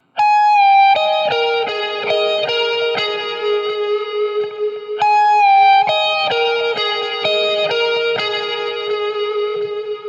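Electric guitar playing a blues lick through a Line 6 Helix, with sustained bent notes and slides under heavy effects, distortion and reverb, loud and ringing continuously for about ten seconds with no talking.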